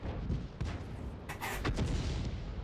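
Tank cannon fire in World of Tanks, deep muffled booms and thuds rolling under low engine rumble, with a sharper crack and echo around the middle.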